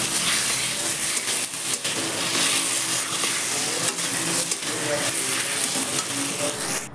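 Taro leaves fry in a pan with salt and turmeric, giving a continuous close sizzle with scraping stirs throughout and no talking.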